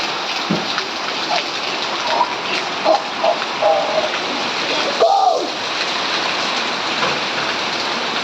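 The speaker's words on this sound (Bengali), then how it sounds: "এতক্ষণ হচ্ছে তুফান এখন নামছে বৃষ্টি" Rain setting in after a storm gives a steady, dense hiss of drops falling close by. It carries on throughout, with a few faint, brief sounds like voices partway through.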